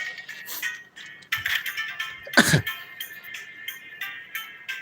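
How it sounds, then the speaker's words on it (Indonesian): A single sharp cough bursts out close to the microphone partway through, amid light background sound and small clinking noises. "Batuk gua."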